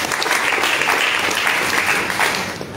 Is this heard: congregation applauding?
yes